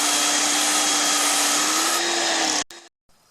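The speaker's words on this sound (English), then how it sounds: "you can hear the compressor spool up, and you can kind of hear the pressure vary a little bit" Husky 1500 pressure washer running under repair, a loud, steady whining drone holding for a few seconds before cutting off abruptly, followed by brief silence and a faint restart.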